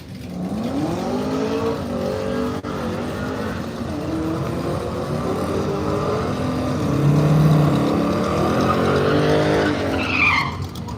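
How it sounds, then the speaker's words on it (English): Race cars at the Miles of Mayhem event roar past beneath the track tower, a continuous loud engine drone with shifting pitch and tire skidding, building near the end, no talking. "All the cars come underneath the tower here."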